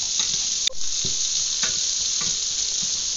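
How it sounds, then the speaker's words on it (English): Celery gets stirred into a sizzling farmer sausage stir fry, a constant close hiss broken by several soft scraping strokes and one sharp knock of the utensil against the pan. "I'm going to add my celery now. Just going to stir this in around for a little bit."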